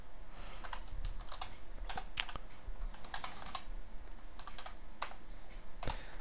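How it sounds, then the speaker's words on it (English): Computer keyboard typed on in short uneven bursts of clicks and key taps, close and fairly quiet, with no talking. "I really need to buy a new keyboard here."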